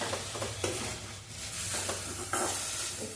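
Drumstick leaves and tomato sautéing in a pan for a thuvaiyal, a steady close sizzle with occasional stirring scrapes over a low background hum.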